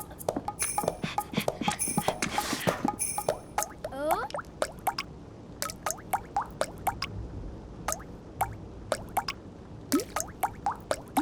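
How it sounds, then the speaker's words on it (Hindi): Water drips from a leaking roof into a bucket in a cartoon scene, a steady stream of close, distinct plinks in an uneven rhythm after some brief clatter and movement at the start. "जल्दी से ये बाल्टी टपकते छत के नीचे रखो।"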